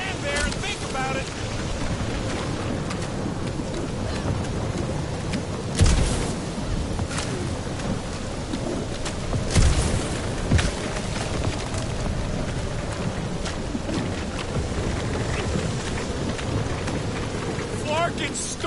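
A thunderstorm with steady, heavy rain pouring continuously, broken by two deep thunder cracks and rumbles partway through, with voices faintly present beneath the downpour.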